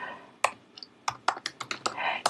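A name typed on a computer keyboard, a brief run of close clicking keystrokes in an uneven rhythm, no talking.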